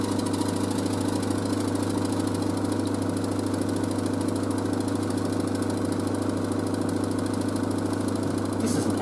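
LG DirectDrive F1496AD washer dryer spins at high speed toward 1400 rpm, a steady loud motor hum with a constant low drone and no talking.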